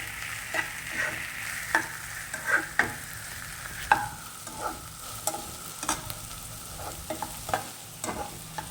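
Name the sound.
finely chopped capsicum sautéing in a pan for masala Maggi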